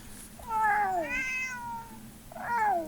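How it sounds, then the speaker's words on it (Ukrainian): A cat meows twice up close, a long drawn-out wavering call followed by a shorter one after a brief pause. "Ой, котик."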